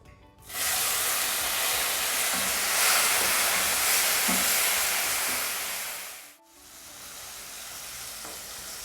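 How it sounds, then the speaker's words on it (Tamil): Mustard seeds sputter and sizzle in hot oil in a pan while cluster beans are cooked, a steady close frying hiss with small popping crackles that dips briefly before continuing. "கடுகு வெடிக்கிறது."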